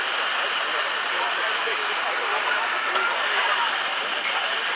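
Steady, loud steam hiss from vintage traction engines at an outdoor show, a continuous broad rushing sound with no breaks.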